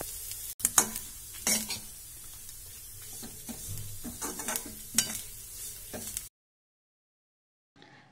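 Grated coconut fried in coconut oil for erissery: repeated scraping stirs of a spoon through the pan over a constant close sizzle for about six seconds, then silence with a faint return at the end.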